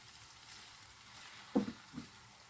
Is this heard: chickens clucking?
no